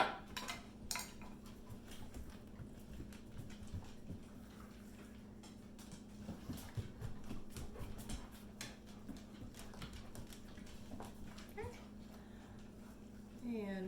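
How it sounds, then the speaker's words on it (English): Flatbread dough with buttermilk is mixed in a bowl, giving intermittent clinks and scraping taps over a low steady hum. "So I'm going to go ahead and put all of that in together and mix it up"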